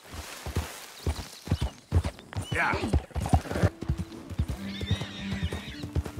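A white horse's hooves clip-clop at a walk in Red Dead Redemption 2, followed by a horse's whinny; a person speaks briefly over the sounds.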